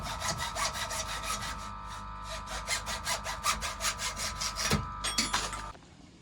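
A hand saw cuts a pipe for a feeder modification in quick, even back-and-forth strokes, loud and close. The rasping rhythm keeps up for about five seconds, then stops.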